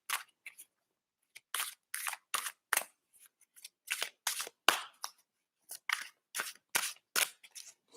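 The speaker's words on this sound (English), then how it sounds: "I'm going to pick some of the Illuminate Oracle cards to go with this one." Tarot-style oracle cards being picked and shuffled from a deck, giving a run of crisp papery snaps and riffles in irregular bursts, close and fairly loud, with no talking.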